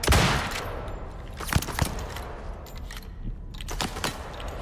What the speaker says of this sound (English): We've never been shot at before.